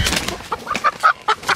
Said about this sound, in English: let's see if these chickens will come back in.